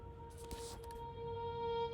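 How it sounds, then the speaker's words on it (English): Vocal transition sample from Splice in an indie pop production, a sustained tonal texture with steady held pitches and a brief airy swell near the start, rising slightly in level toward the end, with no talking. "And I found a vocal transition on Splice, which sounds like this."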